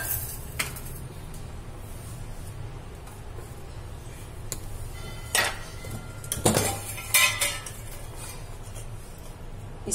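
Ginger-garlic tempering going into lassi for coriander raita, heard as sparse clinks and scrapes of a metal spoon against a bowl, with a few louder knocks near the end over quiet kitchen background.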